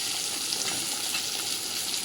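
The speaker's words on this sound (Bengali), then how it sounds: "বেগুনটা আমি ভাজতে দিয়ে দিয়েছি।" Eggplant pieces fry in hot oil for a fish curry, making a dense, even sizzle that holds steady at close range for about two seconds.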